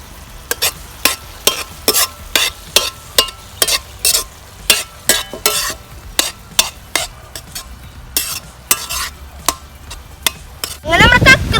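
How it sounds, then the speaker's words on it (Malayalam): Clams roasting in a pan for a Kerala-style clam roast, stirred with a utensil in a steady run of sharp scrapes and clacks over a low sizzle, close and fairly loud, with a brief burst of louder frying near the end. "നമ്മുടെ കക്ക അങ്ങനെ ഏകദേശം റോസ്റ്റ് പരിവാറായി"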